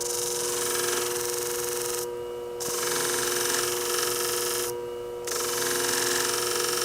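A Hanzo beauty shear is sharpened on a flat hone by a motorized sharpening unit, giving a steady close whirring grind with a high tonal hum, broken by two brief lifts of the blade.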